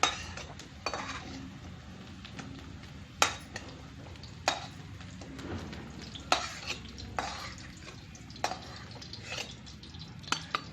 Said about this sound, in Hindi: अब हम तल के निकालत हन, 10 मिनट तक तल के निकाले हन एला